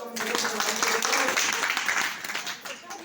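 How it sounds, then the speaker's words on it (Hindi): A crowd of people claps continuously and fairly loudly, dense overlapping hand claps that thin out slightly near the end, with voices faintly mixed underneath. "हाँ, ताली तो बजा लो,"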